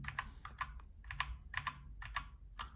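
Fast, crisp keystrokes on a wireless RGB computer keyboard, clicks coming in quick clusters of two or three with short pauses, close and fairly quiet over a low background hum.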